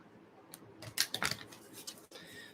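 Oversized tarot cards being shuffled by hand: a short burst of papery riffling and flicking clustered in the middle, fairly close, with quiet room tone around it.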